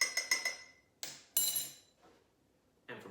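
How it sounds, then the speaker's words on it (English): A metal spoon clinks against the sides of a cup while stirring milky tea. It gives several quick bright taps, then a few louder isolated clinks spaced apart, with short silences between them and no voices. "Taking that spoon, we're going to stir it again."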